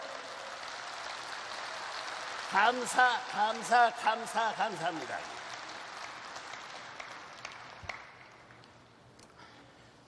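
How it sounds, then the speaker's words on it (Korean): An audience at a religious address bursts into brief applause that fades over a few seconds, while a voice speaks over the start of the clapping. "박수해요."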